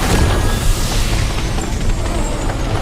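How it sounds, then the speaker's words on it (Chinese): An animated explosion blasts apart a pile of rocks: a loud, dense rumbling roar with heavy low-end weight fills the whole moment without letting up, and no voices are present. "得在兽潮到达之前轰开这堆乱石。"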